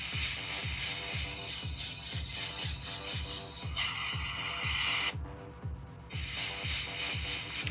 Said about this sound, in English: I come back and I spray a little bit on here just to make sure that I'm getting a good consistent flow of paint through